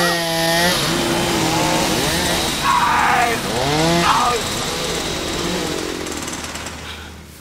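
A loud chainsaw cutting trees drones and revs, its pitch bending up and down as the engine strains.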